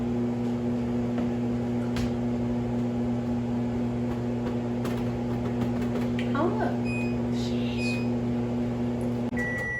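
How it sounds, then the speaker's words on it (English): Microwave oven heating a bowl of instant mac and cheese, a steady low electrical hum and drone held throughout, with faint clicks and a brief soft voice near the end. "This goes in the microwave for"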